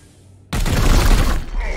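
A sudden loud burst of gunfire erupts in Warhammer 40,000: Chaos Gate Daemonhunters, a dense crackling blast that sustains for over a second after a quiet lead-in.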